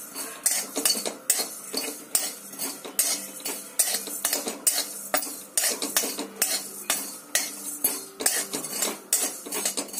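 Spices such as cumin and carom seeds stirred in a pan for paratha, with a metal spoon scraping and clinking repeatedly against the pan in a steady, close rhythm, no talk.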